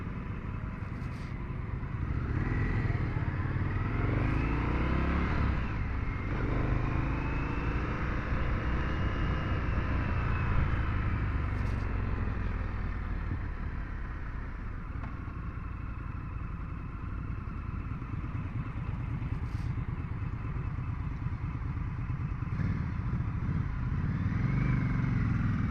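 An Indian FTR1200 S motorcycle with its factory Akrapovic exhaust being ridden in El Cajon, California, giving a continuous engine drone whose pitch rises and falls with throttle and gear changes, loud and close throughout.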